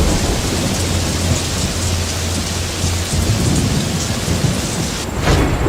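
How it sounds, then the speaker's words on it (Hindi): Heavy rain pours steadily in a cartoon scene while deep thunder rumbles low underneath, the downpour dense and continuous with a brief swell near the end. "फिर लगातार 15 दिनों तक बारिश होती रही।"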